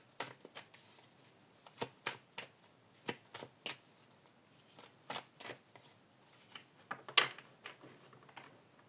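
Tarot cards being shuffled by hand, a series of crisp riffling bursts roughly every half second, close and fairly quiet, with no speech.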